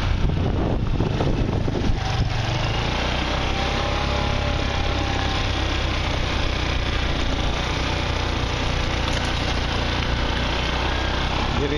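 Motorcycle engine running steadily during a ride on Bantayan Island, a continuous mid-pitched drone with road and wind rumble, fairly loud and unbroken throughout.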